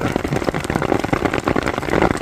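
Hail pattering densely on an umbrella during a mountain storm above treeline, a steady close drumming of many small impacts with no voices.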